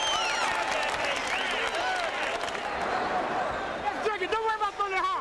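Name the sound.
boxing crowd cheering at end of round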